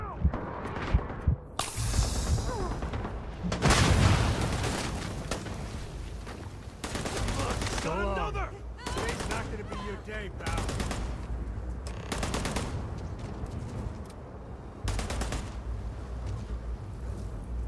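Rapid bursts of automatic gunfire from a weapon in the video game Starfield, loud and dense, with sharp shots repeating in clusters over battle noise and music, and a voice speaking at moments.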